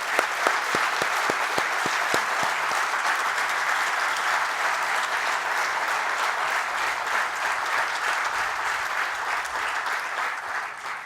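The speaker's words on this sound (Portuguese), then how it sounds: "Peço para todos eles uma calorosa e efusiva salva de palmas" Warm, sustained applause from an audience at a solemn municipal anniversary session in Esposende, Portugal, a dense wash of clapping lasting throughout, with a few distinct close claps near the start.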